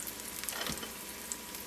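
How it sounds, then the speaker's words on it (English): A wild turkey apple breakfast sausage patty fries in a pan, a soft, steady sizzle heard alone and fairly faint. "Frying pan ready to go, Lori?"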